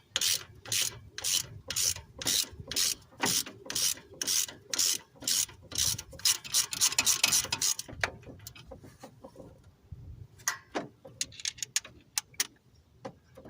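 Ratchet wrench loosening intake manifold bolts on a 1995/96 GMC K1500 with a 5.7L engine, a fast, steady, close clicking in long bursts, then slower scattered clicks and clunks as the tool is repositioned.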